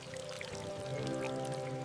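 Water poured steadily onto a newly planted young tree, a continuous gurgling pour with soft splashing that holds at an even, fairly close level for the whole moment.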